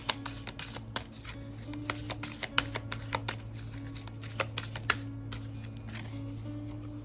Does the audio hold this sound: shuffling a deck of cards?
yes